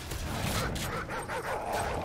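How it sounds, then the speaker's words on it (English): Dog barking in the video game Modern Warfare 3 survival mode, a steady run of yips and barks over dense game noise and rumble, fairly loud throughout. "That dog is just barking at us, man."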